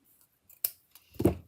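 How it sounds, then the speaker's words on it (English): Scissors snip through ribbon on a paper-craft Christmas nest project, a few quiet cuts building to one louder crisp snip near the end, alone without talk. "I'm going to use my scissors"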